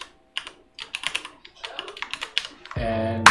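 Fingers type in quick irregular bursts on a computer keyboard, crisp close clacks of keys, ending with a brief sustained tone.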